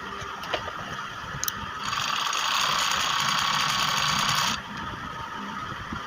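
An overlock machine runs a steady mechanical whirr while stitching hosiery T-shirt fabric, starting about two seconds in and holding evenly for a few seconds before stopping abruptly. Faint clicks are heard before it starts.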